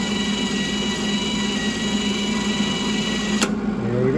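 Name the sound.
MIG welder feeding new wire with trigger pressed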